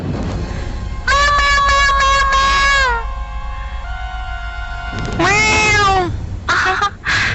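A cat meows loudly several times, drawn-out wavering cries with short pauses between them, close by over a low background hum.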